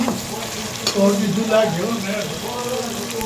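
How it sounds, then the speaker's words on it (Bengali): Onions and garlic paste frying in a pan, a loud close sizzle with stirring scrapes and a brief clatter near the middle, steady throughout with no talk. "পেঁয়াজ দিয়ে দিলাম, এখনো লাল হয় নাই, দিতে থাকি আস্তে আস্তে মশলা। রসুন পেস্ট দিয়ে দিলাম।"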